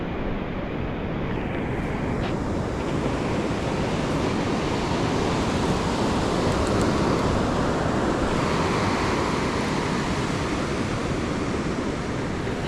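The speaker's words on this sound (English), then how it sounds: "the waves are breaking on the sandbar and washing back over that deeper water" Ocean surf breaks steadily on a sandbar at the beach, a continuous loud wash of waves with some wind noise and no voices.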